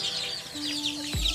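Young local chickens about 25 days old give soft, repeated high chirps in a backyard coop, fairly faint and a little distant, over low background noise.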